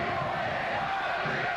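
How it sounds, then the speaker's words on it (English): A loud, dense crowd roars at a high school homecoming football game, a continuous wash of shouting and cheering voices with no single voice standing out. "Boy, it's a loud crowd tonight."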